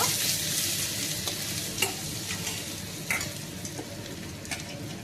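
Whole cumin and ginger paste fry in a pan with a steady, dense sizzle, broken by a few soft scrapes of a stirring spoon, close and with no voices.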